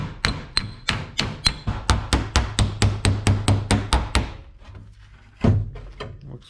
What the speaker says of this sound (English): You can also use a second hammer on the inside of the door.